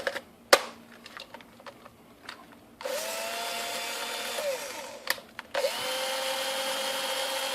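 An older cordless power drill whirs in two short bursts of steady whining, separated by quiet clicks and handling noises nearby.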